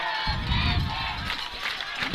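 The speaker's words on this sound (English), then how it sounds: "The entire crowd for Hara is chanting. Everyone is on their feet." Stadium crowd in a football video game roaring and chanting, a steady dense wall of cheering with swelling rhythmic pulses, close and loud throughout.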